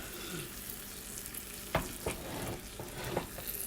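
A steak frying in a pan with butter and oil, a steady soft sizzle with a few sharp clinks and scrapes of a spoon as the fat is basted over the meat.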